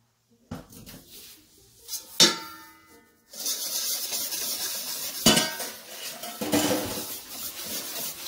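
Olive oil and coconut sugar are whisked in a bowl for Greek olive oil cookies: a few sharp clinks of utensil on bowl, then steady close scraping and beating that continues to the end, with no talk.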